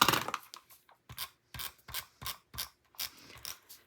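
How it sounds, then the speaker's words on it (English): Microtip scissors cut paper leaf borders from a vine border punch, giving a series of short crisp snips with small rustles in between, close up and with no talking. "using my microtip scissors to cut these leaf borders"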